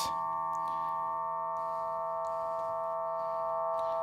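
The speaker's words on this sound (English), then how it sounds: "So it's a wavetable synth, with six voices." Sustained six-voice wavetable synthesizer chords with steady, bright harmonic tones held throughout, soft and evenly layered with faint textural movement underneath.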